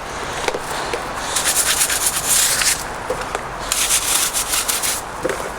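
A brush scrubs the braking surface around a bicycle wheel rim during a bike wash, producing rough, bristly rubbing strokes in irregular bursts, close and fairly loud, with no voices.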